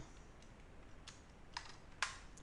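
A few computer keyboard keys are pressed for the Ctrl+7 shortcut, giving soft, sparse clicks over quiet background hiss, the last one the sharpest.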